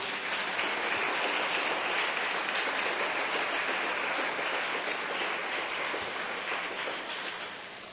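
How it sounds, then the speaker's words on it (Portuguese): A church congregation breaks into loud, continuous applause that holds steady for several seconds and then gradually tapers off at the end. "aplauda Jesus."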